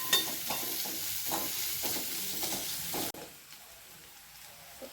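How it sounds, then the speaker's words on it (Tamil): Two large chopped onions sautéing in a pan for cauliflower gravy, a steady sizzle with rhythmic scraping stirs that stop abruptly, leaving quieter frying. "நல்லா வதங்கட்டும்."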